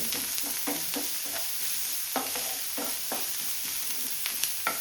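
Shakshuka frying in a pan crackles softly beneath repeated scraping stirs of a spatula at an uneven rhythm, close and moderately quiet, without talk.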